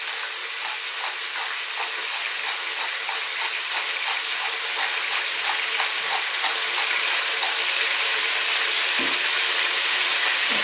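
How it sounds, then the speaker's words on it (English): Chicken and vegetable stew ingredients, with chili, salt and black pepper, fry over lively heat in a pan, giving a loud, steady, close sizzle with light crackles throughout and no talking. "Now we just want to get this fried on this kind of fairly lively heat for about just 4 to 5 minutes"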